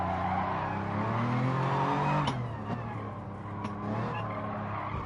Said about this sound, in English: Then just drift it all the way out.